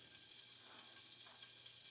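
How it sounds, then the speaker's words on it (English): Food fries in a cast iron skillet, giving a steady, soft sizzle and hiss that stays even and fairly quiet for the whole moment, with no voices. "We're going to get a little frying done on it in the cast iron."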